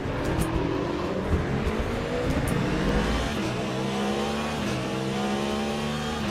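A race car engine in the Le Mans Ultimate sim racing game drones loudly and continuously, shifting pitch as it revs and changes gear, with no talking over it.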